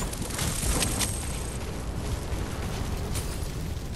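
Gunfire and explosive bursts in Fortnite, a continuous loud barrage of booming shots filling the whole stretch.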